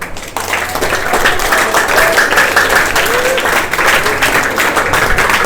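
An audience applauds Rajesh sir at a school academy event in Ludhiana, loud sustained clapping from a crowd nearby, with a voice faintly heard under it.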